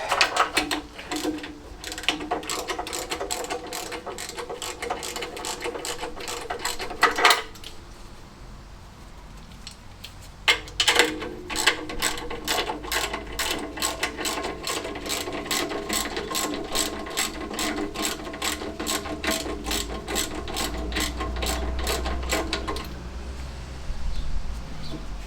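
Close, rapid ratchet clicking as bracket bolts are backed out on a classic Fiat 500, steady bursts broken by a couple of short pauses, loud and alone with no voices.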